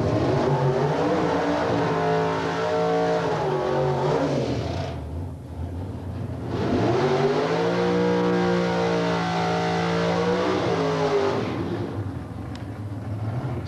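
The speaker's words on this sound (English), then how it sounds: "So completing the burnouts under the tower, 2 British cars, both fitted with large American engines." Two British drag racing cars fitted with large American engines rumble loudly and steadily during burnouts under the tower, engine note rising and falling, with a short dip in the middle before the roar swells again.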